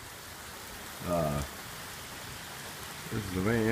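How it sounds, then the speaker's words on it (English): Heavy rain falling outside a porch, a steady hiss of downpour throughout, with a person speaking briefly over it twice. "we got rain coming down pretty hard right now"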